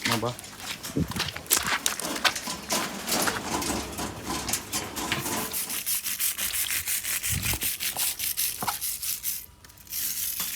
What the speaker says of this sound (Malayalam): Wire brush.